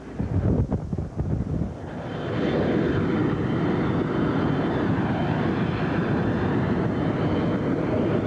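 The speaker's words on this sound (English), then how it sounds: "He powers up. As you can see, they're rolling out now." A small airplane engine throttles up and the plane taxis out, a steady droning roar building after a few seconds of wind buffeting on the microphone, staying loud and close.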